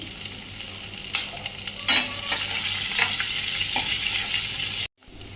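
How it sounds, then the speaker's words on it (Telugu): Onions frying with salt in a pan for a dondakai masala curry, a steady close sizzle with intermittent stirring scrapes and clatters, cutting off abruptly near the end, with no speech. "ఆనియన్ ఫ్రై అవ్వటం కోసం కొంచెం సాల్ట్ వేస్తున్నాను తొందరగా ఫ్రై అవుతుందండి"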